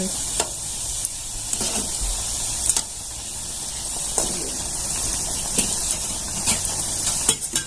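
Jalebi frying in hot oil on low gas, a steady soft sizzle with occasional sharp clicks and taps of a utensil against the pan, fairly quiet and close.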